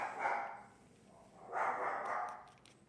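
Angel the dog barks twice, two separate distant barks about a second apart, soft and a little muffled, with quiet background between them.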